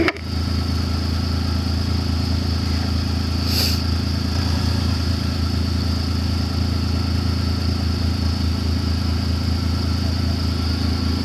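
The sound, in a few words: Kawasaki MULE PRO-FXT side-by-side engine driving in four-wheel drive low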